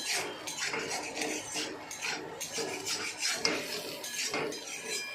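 A metal spatula scrapes and stirs a frying pan of rice with egg and potato, rhythmic rasping strokes repeating steadily over about five seconds, close and clear with no talk.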